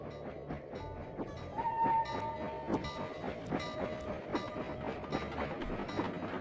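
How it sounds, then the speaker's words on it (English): A train from the video game Sly 2: Band of Thieves rolls past with a steady rumbling clatter, rhythmic clicks and a brief whistle-like tone, moderately loud with no talking. "According to this timetable, Iron Horse number 1 should be passing by any time now."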